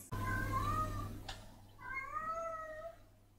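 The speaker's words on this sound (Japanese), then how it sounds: "なんか猫の鳴き声聞こえる気がする。" A pet cat in a home gives two drawn-out meows, each over a second long, close and clear, with a short sharp noise between them over a steady low hum.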